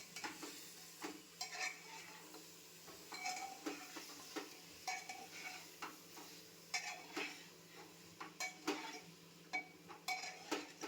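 Chicken curry being stirred in a pan: a spoon scrapes and clinks against the metal in repeated short strokes over a faint sizzle, close and fairly quiet, with no voices.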